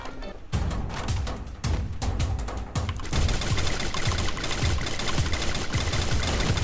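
Rapid gunfire bursts in the battle royale game Garena Free Fire, dense automatic volleys and sharp shots rattling almost continuously, loud and close, with a shotgun among the weapons.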